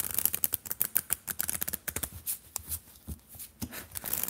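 A deck of playing cards being shuffled, with rapid crisp riffling clicks and flutters in quick bursts close by, with no talk.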